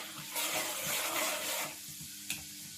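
Mustard seeds and chana dal crackle and fry in hot oil in a pan, a dense close sizzle rising and then easing, with a soft stirring scrape and one sharp clink near the end; no talk.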